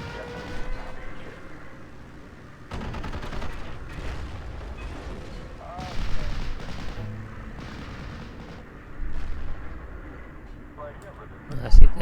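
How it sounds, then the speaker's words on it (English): Flak guns fire in the Steel Division 2 video game, several heavy booming bursts spaced out over a continuous rumbling battle din, with someone talking over it. "Nice hit there from the flak."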